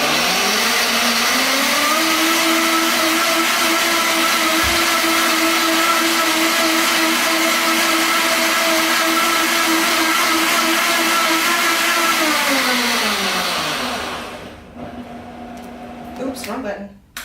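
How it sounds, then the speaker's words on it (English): A six-year-old, well-used Vitamix blender roaring loudly and steadily for about fourteen seconds, its pitch rising as it speeds up, then winding down and stopping, followed by quiet handling sounds. "this is my Vitamix"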